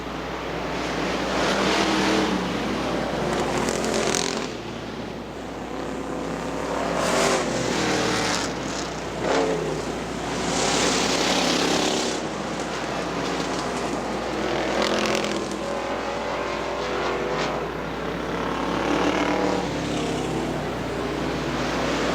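Street stock race cars roar around the Butler Motor Speedway oval in a dense, continuous engine drone, swelling and fading as the pack passes, loud and steady throughout with no voices heard.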